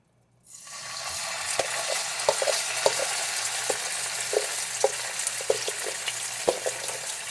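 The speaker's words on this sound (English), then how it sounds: "It's going to sizzle real loud" Pork hitting a hot stainless steel pan bursts into a loud, continuous sizzle that starts abruptly and holds steady, dotted with sharp crackles and pops throughout, close up with no voices.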